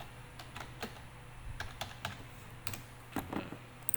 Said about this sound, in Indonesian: Tapi kalau untuk menggunakan keyboard saja kalian bisa pencet F2.